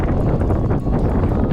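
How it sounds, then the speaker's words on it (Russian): Strong wind buffets the microphone on an Irish coast, a loud, constant roaring rush with gusty swells and no voices. "Ветер это просто пипец, это что-то."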